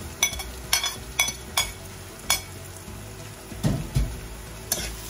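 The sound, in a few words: tomato cooking with sayote in a pan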